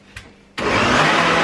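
A blender switches on abruptly after a short pause and roars steadily as it purees potatoes, leeks, Parmesan and cream into baby food, loud and close with a dense whirring motor.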